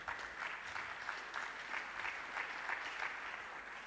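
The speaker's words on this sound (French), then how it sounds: "On peut encore applaudir notre jury." An audience at the E-Commerce Awards 2014 ceremony applauds the jury, a steady, dense patter of many hands with slight rhythmic surges, heard from a moderate distance with no voices over it.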